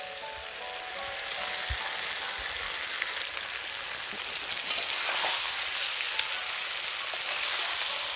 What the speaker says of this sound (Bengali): এরকম আস্তে করে কিন্তু কষিয়ে নিতে হবে।